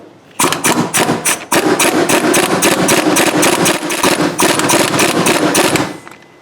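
A bolt is cranked down to drive a front crankshaft oil seal into an engine, likely with a power tool that gives a loud, rapid rattling hammer sound. It runs in two bursts with a short break between them, then stops.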